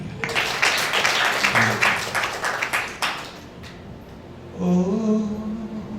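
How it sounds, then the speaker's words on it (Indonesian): A church congregation at an Ascension Day service bursts into loud, thick clapping that fades out after about three seconds, followed by a sung voice that rises over quiet accompaniment. "Tepuk tangan bagi Allah."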